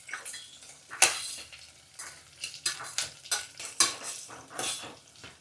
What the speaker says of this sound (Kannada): ಇದನ್ನು ಒಂದು 3 ನಿಮಿಷ ಸಣ್ಣ ಊರಿನಲ್ಲೇ ಚೆನ್ನಾಗಿ ಹುರಿಬೇಕಿದ್ದನ್ನ